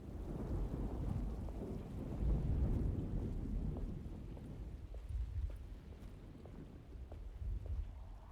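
Steady storm ambience from the game Alone in the Dark: rolling thunder rumbles over constant rain and wind noise, swelling and easing across the stretch with no voices, fairly quiet overall.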